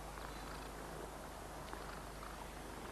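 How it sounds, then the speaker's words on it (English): A contented cat purring, a soft continuous rumble held steadily throughout under a noisy background with no talking. "He starts purring."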